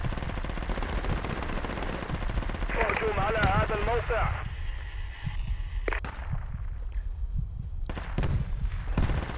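Rapid bursts of gunfire in a first-person multiplayer shooter, a fast rattling volley standing out briefly over continuous game noise and speech from players talking throughout.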